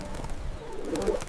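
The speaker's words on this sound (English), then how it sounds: "Even the city pigeons look different now." City pigeons cooing outdoors on a warm day after a blizzard: a few low, soft coos over a steady background murmur, brief and moderately close.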